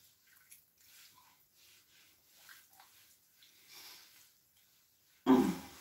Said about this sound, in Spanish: Me vuelvo a mojar las manos porque era poca agua y sigo emulsionando.